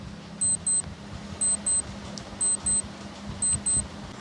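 An on-screen quiz countdown timer gives paired electronic beeps, two quick tones repeating about once a second over a steady low background hum, with no talk.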